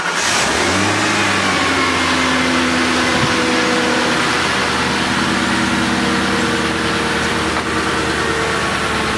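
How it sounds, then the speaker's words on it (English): A 1968 Ford F350 engine, before a muffler delete, idles loud and close while cold with a little revving, a steady, rough, droning rumble that continues throughout. "Nothing too much going on besides motor noise, really."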